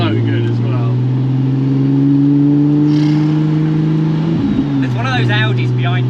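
A Ford F100 truck swapped with a twin-turbo Nissan 370Z engine drives along an industrial estate, its loud steady engine drone filling the cabin, dipping briefly as it shifts, then resuming with voices in the background.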